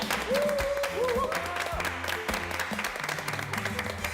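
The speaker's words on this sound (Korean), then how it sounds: "박수 한번 주시죠" An audience claps loudly and continuously at a church youth program introducing taekwondo students, a dense wash of applause with a few whoops and a voice briefly over it.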